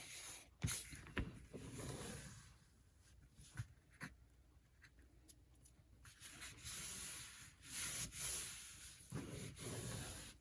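Fingers rubbing along a glued cardboard seam on a box journal, giving soft, close scratchy swishes in uneven strokes with brief taps and handling noises between them.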